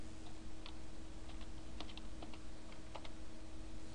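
Typing on a computer keyboard while updating a website, with light, close key clicks in quick irregular bursts over a steady background hum and no voices.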